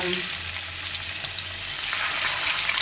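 Thin boneless chicken pieces coated in chili powder, turmeric and salt fry in a pan with sesame, giving a steady, close, bright sizzle and crackle throughout.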